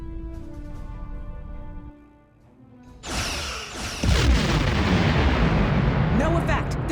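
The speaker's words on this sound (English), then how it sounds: "Target that ship, and fire all weapons!" Starship weapons fire in the space game Star Trek Online: after a tonal hum and brief lull, a heavy booming barrage erupts and builds into a sustained roaring rumble of blasts, loud and continuous.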